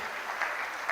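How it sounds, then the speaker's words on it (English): Brief, soft audience applause at an employment transition event, a faint wash of scattered clapping lasting only a moment. "May I invite the audience to give a round of applause to the moderator"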